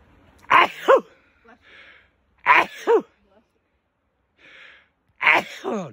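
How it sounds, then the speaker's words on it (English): Three sharp sneezes at roughly even intervals from a person on a rocky uphill trail on Mount Tamalpais, each a loud burst followed by a quick second blast, with brief sniffly breaths between and no talking. "I would sneeze when I was videoing."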